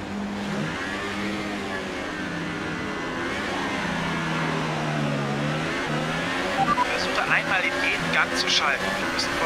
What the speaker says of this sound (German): Der Motor darf nicht zu heiß werden, also pass auf, dass die Drehzahl nicht zu hoch wird.